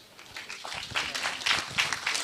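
An audience at a county best practice award forum applauds, with scattered clapping building into a fuller burst over a couple of seconds.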